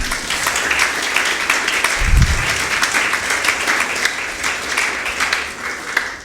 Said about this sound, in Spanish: Dale ese fuerte aplauso al Señor.